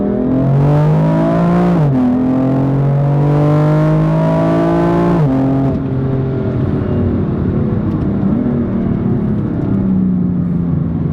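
A BMW M4 Competition Package (F82 LCI) revs hard, its engine note climbing and falling in long sweeps, loud and close, before settling into a burbling idle with crackles from the exhaust.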